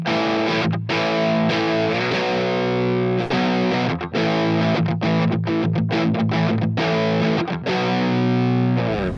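A Yamaha Revstar electric guitar with humbuckers and its focus switch engaged, played through heavy distortion. Thick, sustained chords ring loud and dense, with brief breaks between strummed passages.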